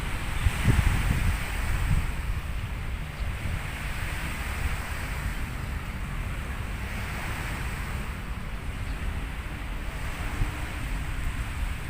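Ocean surf at Bang Saen beach, Thailand, washes continuously in a broad, rushing roar in the morning, steady and fairly close, with a little wind buffeting and no talking.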